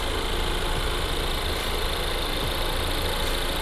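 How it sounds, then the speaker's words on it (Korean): Engine of a fifth-generation Ford Explorer 2.3 Limited 4WD SUV runs steadily at idle, heard up close from the open engine bay as an even, continuous mechanical hum and whir with no speech. "엔진 소리 일정합니다."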